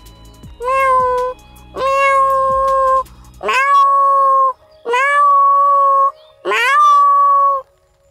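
A person mimics a cat's meow with his voice, giving five drawn-out, loud, close meows one after another.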